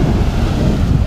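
Sea waves and wind on a beach roar loudly and briefly, with heavy wind buffeting the microphone and no voices.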